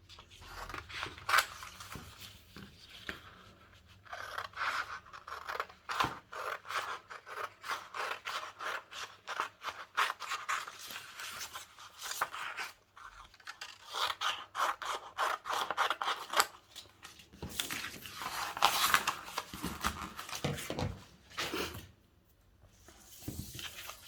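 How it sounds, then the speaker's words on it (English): Scissors snip steadily through fabric to cut out trilby hat pattern pieces, a close, continuous run of rapid crisp cuts and rasping blade strokes with brief pauses, with no voices. "I'm going to cut all the pieces out now"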